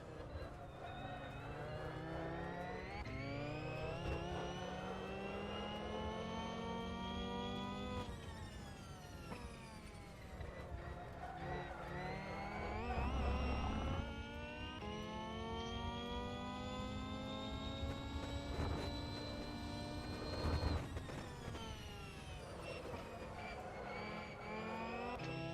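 Simulated eX Zero race car from rFactor 2 lapping Sebring, its engine whining steadily with rising and falling pitch as it accelerates and shifts, continuous and close throughout.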